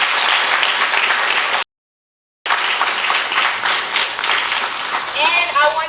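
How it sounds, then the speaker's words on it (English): An audience at a spoken word poetry competition applauds loudly and steadily for the poets, with one brief dropout partway through and a few cheers near the end. "give all of the poets in the program a big round of applause"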